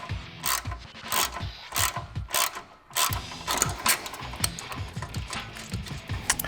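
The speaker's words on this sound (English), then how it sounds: "And then you just put your socket on here and tighten it up." A socket ratchet clicks in rapid bursts while tightening a nut on a Jeep JK Wrangler front inner fender, close and crisp, with short pauses between strokes and no talking.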